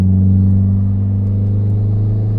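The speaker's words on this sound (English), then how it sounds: "come out, give it some gas. I mean, the turbo's right there. It spools up, gets hot real quick." A turbocharged 400 hp Mopar Stage 3 Neon SRT-4 under load out of a corner gives a loud, steady, low engine drone heard up close, with no speech over it.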